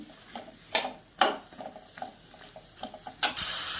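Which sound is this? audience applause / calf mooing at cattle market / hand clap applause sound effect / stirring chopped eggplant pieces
stirring chopped eggplant pieces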